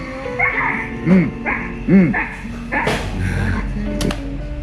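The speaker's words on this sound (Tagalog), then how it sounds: "May aso din, oh." A dog gives a few short, yelping barks and whimpers close by, spaced about a second apart, over low background noise.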